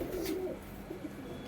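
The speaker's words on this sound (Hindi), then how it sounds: "मान साहब बाजू में उड़ते हुए कबूतर है जी" Madrasi and Punjabi racing pigeons coo softly nearby, a low, throaty burst of cooing followed by fainter murmurs, with no voices.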